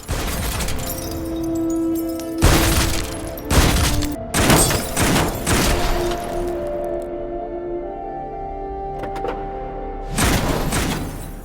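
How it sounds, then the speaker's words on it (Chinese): Gunfire in a movie shootout, several loud bursts of rapid shots and heavy impacts spaced over the scene, with a sustained tonal score underneath and quieter gaps between volleys. "返回的麦克斯撞飞一名杀手，并连续开枪击毙对方。"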